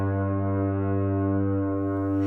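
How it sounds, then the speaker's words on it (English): The Bell Rock lighthouse foghorn sounds one long, deep, sustained booming blast in fog, a rich harmonic drone that holds steadily for the whole clip with nothing else heard. "the morose sound of the Bell Rock foghorn can be heard booming"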